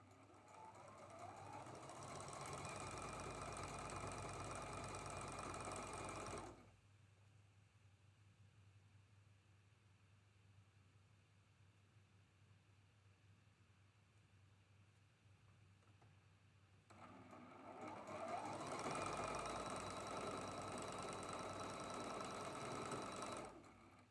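A sewing machine chain-pieces seams joining traditional quilt blocks, running in two steady, loud bursts of several seconds each with a quieter pause between them.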